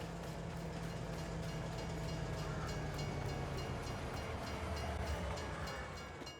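A freight train rolls steadily through the Elm Creek map in Farming Simulator 22, with continuous rail rumble and rhythmic wheel clatter on the track, moderately loud and alone throughout.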